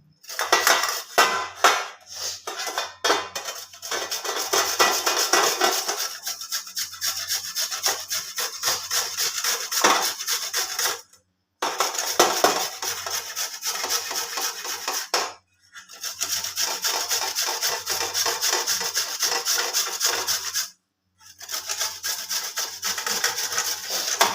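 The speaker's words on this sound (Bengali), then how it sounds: "এর মধ্যে আমি আলুটাকে একটু গ্রেট করে নেব এই যে ছোট দিকটা আছে এই দিকটা দিয়ে গ্রেট করব" A potato is grated by hand on the small-holed side of a metal grater, making steady, close, rasping strokes in long runs broken by a few brief pauses, with no voices.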